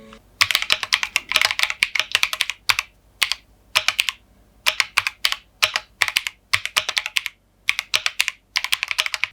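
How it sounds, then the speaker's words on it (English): Steady bursts of typing on a KEYCORCH Q1 PRO mechanical keyboard, crisp clacky keystrokes in quick runs separated by short pauses, close and loud with no talk. "just type a couple of sentences so you will be able to hear the sound"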